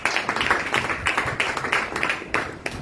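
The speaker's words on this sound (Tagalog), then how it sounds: "Palakpak." A seated audience at a discipleship training session breaks into clapping, with steady, fairly close, dense applause that lasts about three seconds and nobody speaking over it.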